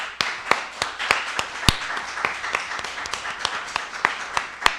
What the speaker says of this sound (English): And I just want to give them a round of applause.